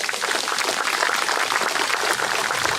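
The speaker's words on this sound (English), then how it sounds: "Give them a big round of applause." A seated audience at an annual Vietnam Veterans Day celebration gives a round of applause, a dense, even wash of many hands clapping close by, steady throughout.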